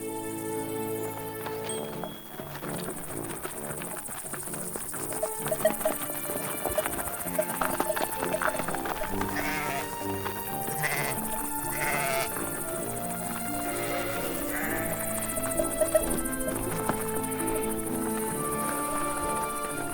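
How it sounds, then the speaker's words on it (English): Sheep and goats grazing on the meadowlands of the Peščara in Serbia, with repeated loud bleats from several animals and some hoof clatter over a continuous musical backdrop. "Large parts of the Peščara are meadowlands, with sheep and goats eating the grass and herbs."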